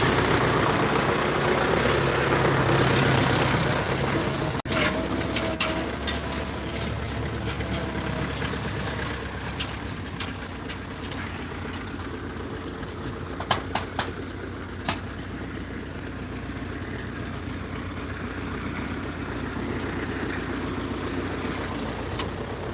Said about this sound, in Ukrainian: як бачимо, трактор наш запрацював